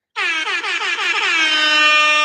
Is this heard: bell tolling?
no